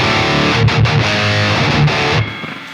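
A loud, distorted electric guitar through a Marshall Ampknob with built-in reverb plays a short phrase, then the notes ring out and fade in a brief reverberant tail.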